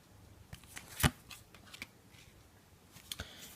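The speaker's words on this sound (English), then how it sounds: "let's give the cards a shuffle" Tarot cards shuffled in a daily reading, giving a few soft riffling brushes with one sharp louder snap near the start, fairly quiet and without talk.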